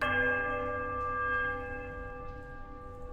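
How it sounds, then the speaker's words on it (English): A large bell in the ruined halls of the Pillars of Eternity video game rings with a sustained metallic peal whose rich overtones hang and slowly fade, loud and alone with no talking. "The bell sounds a strange, warbling peal that grows to a powerful shrillness before it diminishes to a mournful chime"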